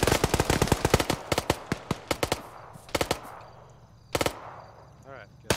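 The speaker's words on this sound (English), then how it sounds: "Keep getting shot by the BMP or APC, whatever" Machine gun fire from an armored BMP or APC striking a vehicle, loud sharp bursts of rapid cracks in quick clusters with short pauses, close by and alone.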